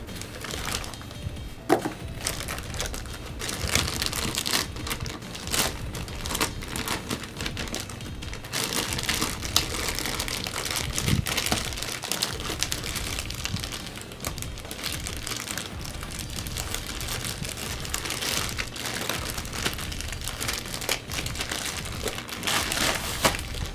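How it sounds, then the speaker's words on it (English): A Western Digital MyCloud EX2 NAS unit is worked out of stiff styrofoam packaging, with continuous close crinkling, squeaking and rubbing plus scattered sharp knocks and clicks for over twenty seconds. "We'll just take this out of its very strong styrofoam packaging"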